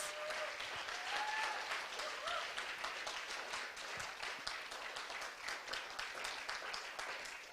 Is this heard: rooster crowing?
no